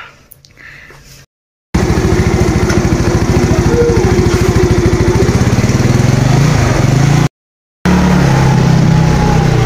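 A Legend motorcycle engine runs steadily and close by with a dense, rapid low putter, after a brief quiet start and with two short gaps of silence.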